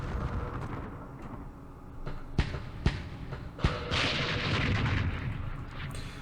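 Artillery guns firing in the Middle East wargame Campaign Series, with three sharp booming reports at irregular intervals followed by a long rumbling roll of explosions over a steady low battlefield backdrop.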